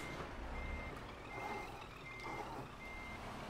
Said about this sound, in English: Let's reverse into him and give him something to think about.